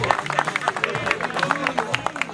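Applause from a crowd at a gathering, steady clapping with scattered sharp hand claps, close and mixed with voices and chatter throughout.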